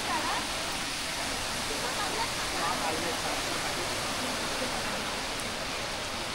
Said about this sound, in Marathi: इतके धबधबे आहेत या मार्लेश्वराच्या इथे.